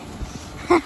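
A single short, high dog bark or yip near the end, preceded by faint low thumps and quiet surroundings, during a winter off-road drive.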